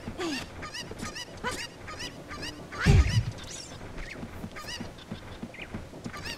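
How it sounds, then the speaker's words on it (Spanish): Cuccos clucking and squawking in The Legend of Zelda: Ocarina of Time on N64, a rapid string of shrill honking bird calls with one louder burst in the middle, heard without speech. "Las gallinas son más importantes que tú."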